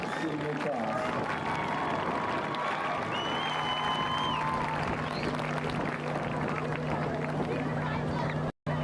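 Crowd applause fills the stands at a high school varsity football game between the West Valley Rams and Sunnyside Grizzlies, a steady broad roar of clapping and cheering that runs throughout under a low amplified hum, cutting off abruptly near the end.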